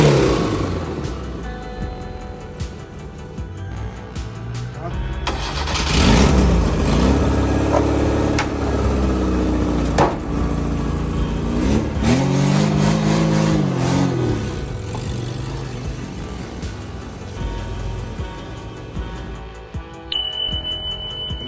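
A Suzuki Jeep SJ410 engine with a sport exhaust revs up repeatedly with a deep, throaty exhaust roar, rising and falling in pitch over a steady idle, close by and loud.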